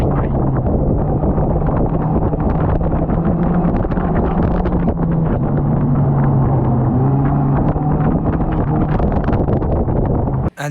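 Stock race cars circling at Cowdenbeath Racewall, a continuous loud engine roar with wind buffeting the microphone, one car passing another on the inside, steady throughout before cutting off abruptly.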